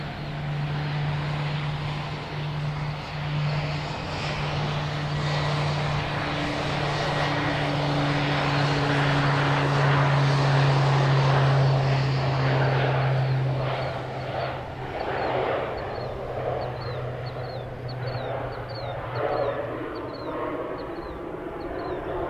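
Central Mountain Air propeller plane departing, its steady engine drone and propeller hum holding loud and continuous from somewhat far off, swelling slightly mid-way before easing.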